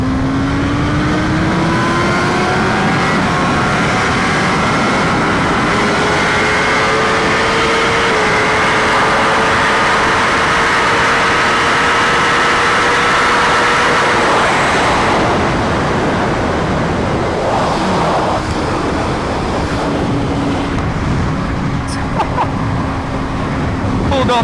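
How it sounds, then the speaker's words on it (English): A Ducati motorcycle accelerating at speed, its engine note climbing through the gears under heavy wind roar, loud and continuous from the rider's position with no talk. "This bike, it gets up to speed like, I don't think I have any other bike that gets up to like top speed this fast and this smoothly as well."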